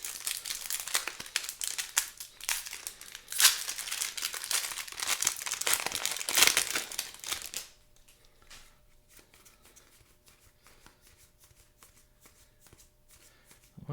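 Crinkly tearing and crumpling of a Baldur's Gate draft booster pack wrapper, loud and close for about eight seconds, then stopping abruptly to near silence.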